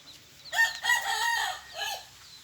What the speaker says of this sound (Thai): ไก่อะไรวะเนี่ย